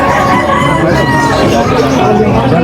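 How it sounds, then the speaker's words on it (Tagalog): A rooster crows amid a noisy, bustling crowd at a pet market in Malabon, Metro Manila, with constant chatter and babble close by. "Ito po yung mga manok naman po rito."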